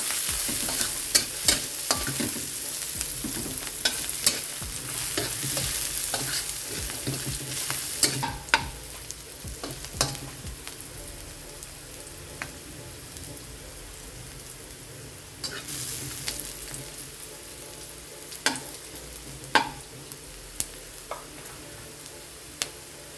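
Pork ribs kaldereta base browns in a pan with a steady sizzle, broken by frequent sharp scrapes and clatters as a utensil stirs. The sound is close and continuous throughout.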